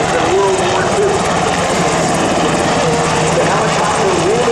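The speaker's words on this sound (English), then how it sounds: "The helicopter really came" A UH-60 Black Hawk helicopter at a Rhode Island Air National Guard open house and airshow, a loud continuous rotor and engine roar with a shifting whine, while someone narrates over a public address.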